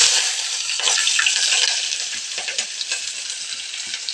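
Steady crackling sizzle of tempering spices, curry leaves, green chillies and onions frying in hot oil, close and fairly loud, with occasional stirring scrapes and no talking.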